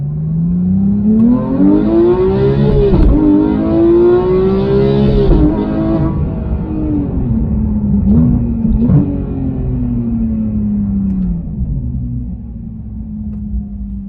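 A 2018 Porsche 911 GT3 (991.2) engine revs hard and climbs in pitch, loud and close, with deep exhaust rumble and a couple of quick throttle blips before settling.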